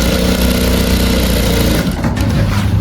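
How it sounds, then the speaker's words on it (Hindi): Sewing machine stitching the pocket of a round-neck waistcoat, a loud steady motor whir with continuous rapid stitching that dips briefly near the end before resuming. "ये हमारी पॉकेट की सिलाई लग रही है।"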